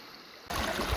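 Creek water rushes steadily through a small 6-inch gold sluice at Reedy Creek, starting abruptly and holding a loud, close, continuous wash and gurgle.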